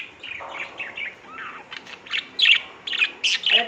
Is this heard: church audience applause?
no